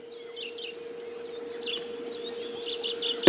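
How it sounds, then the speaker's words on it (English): Dawn-chorus birds call around a safari vehicle in the bush: soft, distant chirps and short phrases repeat against a low steady engine hum, growing a little louder toward the end. "And a host of birds calling around us."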